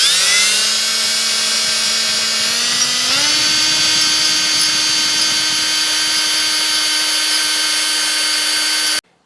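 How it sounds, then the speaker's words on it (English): A carbide bit in a power tool slots a metal front strut part on a 1993-2002 Firebird Trans Am or Camaro, a loud close high-pitched whine that jumps up in pitch partway through, then holds steady until it cuts off abruptly. "I'm using a carbide bit just to go in there and to slot this a little bit more."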